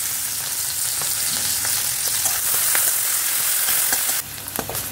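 Sliced onions fry in refined oil while being stirred, a steady close sizzle broken by spatula scrapes, with the hiss briefly brightening near the end; no one speaks.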